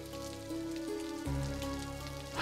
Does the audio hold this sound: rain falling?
yes